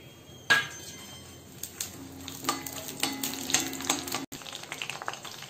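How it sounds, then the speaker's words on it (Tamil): Tempering spices hit about two tablespoons of hot sesame oil in a kadai for Madurai-style mutton chukka. They crackle and sizzle close by, with scattered sharp pops and a stirring scrape partway through. "தாளிக்கும் பொருள் எல்லாம் போட்டுக்கறேன்"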